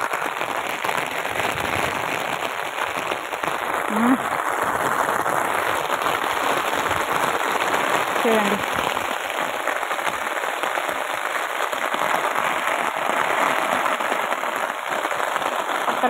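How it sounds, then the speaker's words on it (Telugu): Heavy monsoon rain pours down in a dense, steady hiss, with crackling patter of drops on hard surfaces throughout and a few brief spoken words. "Full heavy rain."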